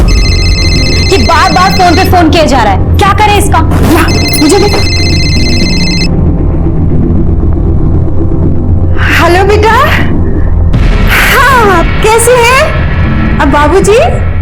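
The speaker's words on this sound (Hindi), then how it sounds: "ये बार बार फोन पे फोन किया जा रहा है" A telephone rings repeatedly in bursts over rumbling dramatic music, with people talking between and over the rings.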